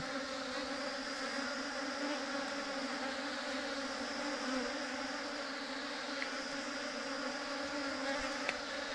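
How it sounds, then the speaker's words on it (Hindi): Honey bees buzzing around a hive from a merged colony with multiple queens, a steady, fairly quiet swarm drone with overlapping wingbeat tones rising and falling as bees move close by, no talking. "इन मधुमक्खियों को धीरे धीरे यहाँ से हम हटाएंगे और रानी मधुमक्खी को हम पकड़ लेंगे"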